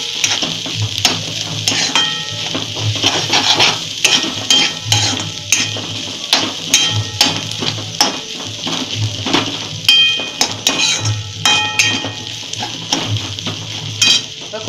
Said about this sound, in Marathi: आता हलवून घ्यायचं चांगलं